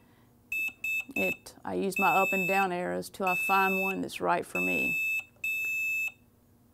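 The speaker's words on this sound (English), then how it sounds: "So if I want to change the sound of my beep" A George Knight DK3 mug press gives short, high electronic beep tones, several in quick succession, with someone talking over and between them.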